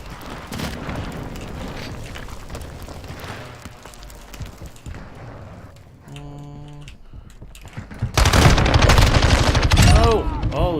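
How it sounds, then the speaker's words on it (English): Several heavy blasts from a hostile airstrike rumble through a video game firefight, with bursts of gunfire and clattering, then a loud, dense barrage of explosions near the end. "Hostile airstrike near your location."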